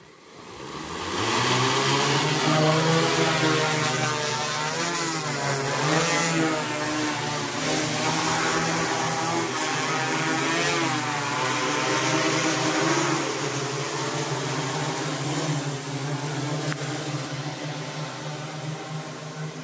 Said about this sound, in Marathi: ऊस पिकामध्ये फवारणी जर करायची असेल तर तुम्ही ड्रोन या टेक्नॉलॉजीचा तुम्ही वापर करू शकता.